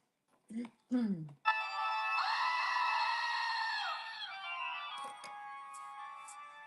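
A screaming goat sound effect plays at a pin-sale event: a few short cries, then a long, loud, shrill human-like scream that holds for several seconds and slowly trails off.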